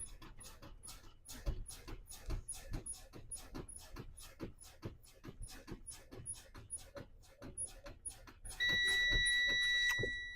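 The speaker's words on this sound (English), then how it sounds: "Both my low pressure warning light and buzzers came on when they were supposed to." A steady tonal buzzer from a Class-B truck's low air pressure warning sounds near the end, rising loud and constant over a background of rhythmic pulsing sounds that resemble a dog panting.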